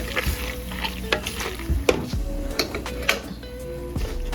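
A thick macaroni and cheese mixture is stirred in a pot on the stove, with wet squelching and a few sharp knocks of a spoon against the pot, close and without talking.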